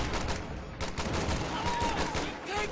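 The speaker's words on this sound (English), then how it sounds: "Another anti-infantry strafe coming in." Rapid gunfire from an anti-infantry strafing run in the World War II strategy game Company of Heroes 2, a dense, continuous rattle of shots heard alongside other battle noise.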